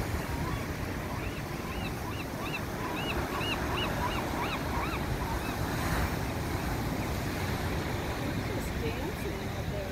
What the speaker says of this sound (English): Again, you can just listen to the sound of the water.